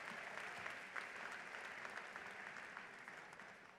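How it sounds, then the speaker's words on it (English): Steady applause from a large crowd at a university convocation, dense clapping holding at an even level throughout, heard from within the room. "Let's give them another round of applause."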